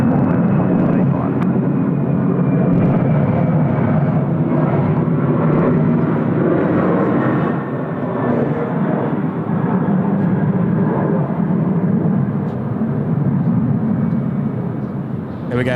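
Jet airliner taking off from runway 34 left at Sydney Airport, a loud continuous roar heard from a distance that stays steady throughout, with a faint voice underneath.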